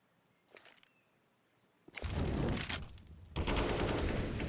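A grenade blast and gunfire in Counter-Strike, a quiet stretch with faint footsteps and shots before a sudden loud burst of explosion and rapid fire that continues in two dense waves.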